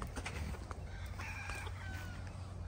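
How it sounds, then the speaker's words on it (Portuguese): A farm chicken makes a few short clucking calls over steady low background noise outdoors, near pens where pigs root. "olha uma galinha aqui"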